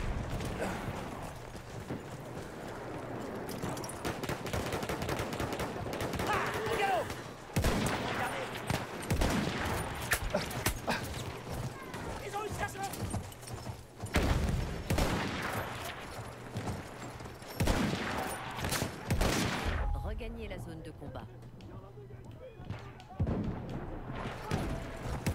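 Rifle fire and explosive battle noise in the video game Battlefield 1, with repeated gunshots and bursts over a continuous loud din of combat, horse hooves and mechanical clatter, with occasional talk.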